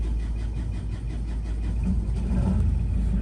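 A Volvo Penta boat engine starts and runs steadily with a low rumbling drone, close and fairly loud, with no voices.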